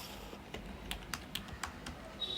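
Soft, quick clicks of a computer keyboard as code is typed, a close, irregular patter of keystrokes, quiet and alone.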